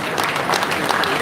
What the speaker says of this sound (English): you can do a better applause